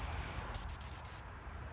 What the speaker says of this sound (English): I'll get the whistle out because he's off, isn't he?